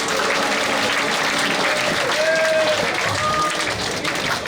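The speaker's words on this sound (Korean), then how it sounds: "여러분 큰 박수로 김민석 의원을 맞아주시기 바랍니다" A school audience of high schoolers applauds in a lecture hall to welcome a guest speaker, a dense, loud, continuous wash of clapping with a few voices faintly mixed in.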